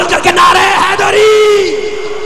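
A crowd at a religious gathering in Chunian on 25 Ramzan shouts a slogan in response. It comes as a brief, loud chorus of voices yelling together with a drawn-out, rising tone.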